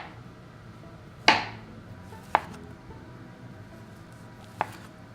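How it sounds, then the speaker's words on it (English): Knife slicing mushrooms thinly on a cutting board: three separate close, crisp chops spaced a second or more apart, the first loudest, over a quiet room. "The mushrooms, dust those off, and then just thinly slice."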